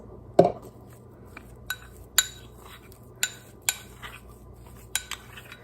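Deviled egg yolk filling is mixed with mayonnaise in a bowl: a quiet background with sharp intermittent clinks of a utensil against the bowl, about eight scattered taps.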